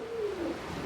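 A pigeon gives a single soft, drawn-out coo that slides gently downward, heard nearby over a faint background hiss at a perch where the birds mate.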